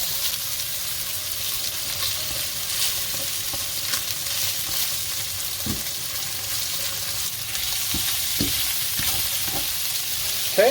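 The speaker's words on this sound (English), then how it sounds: "Just gonna saute it." Three medium-sized, already cooked sausages sizzle and fry in a paella pan, a steady close crackle with occasional scrapes and stirring knocks, no talking.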